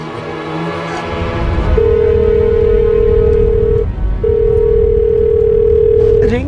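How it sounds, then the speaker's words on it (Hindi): A telephone ringback tone on an unanswered call in a Hindi TV crime drama: two long, steady electronic tones separated by a short gap, fairly loud over background noise and a low murmur of voices. "पर विवेक फोन नहीं उठा रहा है।"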